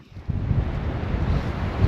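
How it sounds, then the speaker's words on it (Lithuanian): Strong wind in Spain in winter buffets the microphone with a loud, continuous low rumble and roar, steady throughout, no voices. "Šiandien labai stiprus vėjas."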